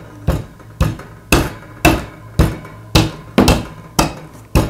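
Nine sharp hammer blows pound coffee beans at a steady, slightly uneven pace, each a loud close thud with a brief ringing decay, no voices.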